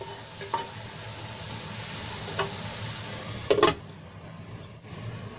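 Okra sizzling in a pan with peanut and sesame masala, a close, steady frying hiss broken by a few sharp utensil clinks, then quieting sharply as the cooking noise is muffled.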